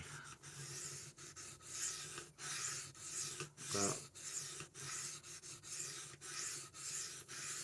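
A blade is drawn back and forth over a sharpening stone in quick, dry rasping strokes, close and fairly quiet, with an irregular rhythm and no speech.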